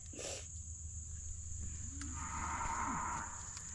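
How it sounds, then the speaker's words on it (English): Cattle on a farm bellow in long, hollering moos from a distance, steady over a constant high insect-like whine and low background hum, with no talking. "cattle are over there hollering"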